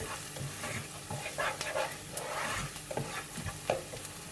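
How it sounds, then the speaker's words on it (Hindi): Onions sautéing lightly in a pan for a chicken pie, a soft, close sizzle with scattered clicks and scrapes from stirring, quiet and steady without speech. "प्याज हल्की सी सौते हो चुकी है।"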